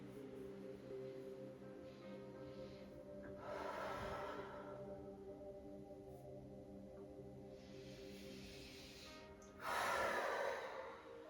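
Slow, deep breaths during a stretching session aimed at the splits, soft inhales and exhales rising and falling over a steady tonal background, with one louder, breathy exhale near the end.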